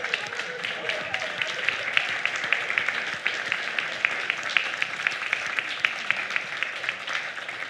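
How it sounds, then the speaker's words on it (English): A church congregation applauds volunteers from a housing initiative, sustained even clapping at moderate level with individual sharp claps standing out, lasting throughout. "would you stand and just allow us to give you some applause?"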